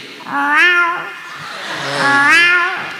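A human voice imitating a kitten, giving two drawn-out, rising-and-falling meows close and clear, one after the other with a short pause between.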